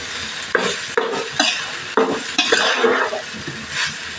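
Hotel-style vegetable fried rice is stirred and tossed in a pan, loud scraping strokes and metal clinks in an uneven rhythm over a light sizzle.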